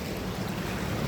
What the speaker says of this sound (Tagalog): Kasi hintay namin yung alon.